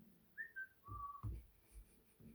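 Someone whistles a short, casual tune of a few rising and falling notes, fairly quiet, with faint handling noises in between.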